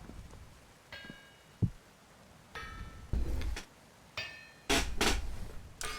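Metal strikes ring out on an anvil in the game Vintage Story, about half a dozen separate clanging hits spaced irregularly over a quiet background, with no speech.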